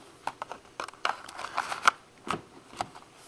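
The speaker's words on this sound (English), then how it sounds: "Now I'm going to take the card and insert it." A Cisco wireless card being inserted into the card slot of a Pocket PC 2002 handheld, heard as a series of short, close plastic clicks and scrapes spread irregularly over a few seconds.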